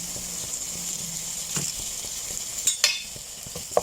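A spoon scrapes and clatters in a pan as tomato paste is stirred into a sizzling base for carrot rice, a few sharper knocks standing out above a steady frying hiss.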